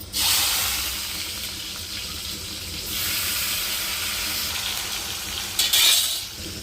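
Chopped onions hiss and sizzle loudly in hot oil with mustard seeds, a dense steady crackle that swells briefly near the end, with no talking.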